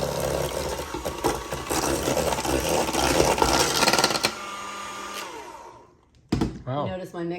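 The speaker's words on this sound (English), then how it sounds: "You notice my mixer?" A cordless electric mixer whirs loudly and steadily for about four seconds in a home kitchen, winds down and stops, and then people begin talking.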